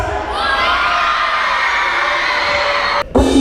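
Children at a school assembly cheer and shout together in a loud, sustained roar that fills nearly the whole stretch, then cuts off abruptly near the end with a brief burst of other noise.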